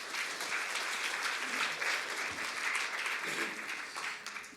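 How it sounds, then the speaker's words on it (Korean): An audience applauds at a student reporter corps launch ceremony, welcoming a company executive to speak; dense, steady clapping from a large crowd that continues throughout, moderately loud and slightly distant, with faint voices underneath. "여러분 박수로 맞아주시기 바랍니다"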